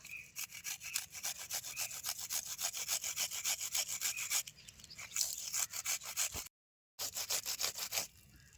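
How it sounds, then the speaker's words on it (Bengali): A small onion is rubbed against a hand grater in quick, steady rasping strokes, close and clear. A brief pause falls midway, then the scraping resumes. "এই পেঁয়াজটা নিয়ে ঘষিনি দিয়ে ঘষে দেবো"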